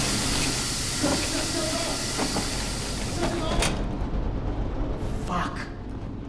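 A steam system in the VR game Metro Awakening gives off a loud, continuous broadband hiss with a heavy rumbling underlayer, holding steady throughout and briefly brightening in a few bursts.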